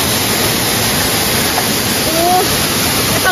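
Temesi Waterfall in Bali pours in a dense, continuous rushing hiss, steady and loud throughout, with a faint brief tonal sound near the end.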